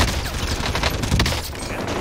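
Dense video-game gunfire in Warzone, a rapid fusillade of shots and booms filling the whole moment, loud and close with no clear talk over it.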